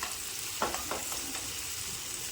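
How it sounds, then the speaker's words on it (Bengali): A pointed gourd mixture with turmeric and salt fries in a pan, giving a low continuous sizzle broken by a few close scraping stirs of the spatula, with no talking. "এবার এটা একটু নাড়িয়ে চাড়িয়ে"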